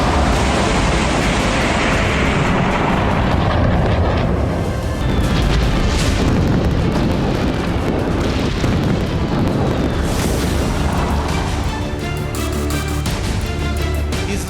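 Dense, continuous blasts and booms from Israeli missile strikes on Iran, loud and rumbling throughout with overlapping bursts and no talk.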